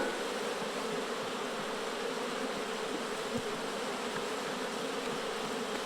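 Steady, dense buzzing of honeybees fills the air continuously in a garden, a soft, even insect drone with no voices.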